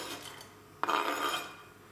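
Chopped shallots and garlic hit an oiled pan with a sudden sizzle that holds steadily for about a second, after a soft scraping of kitchenware, close and alone without talk.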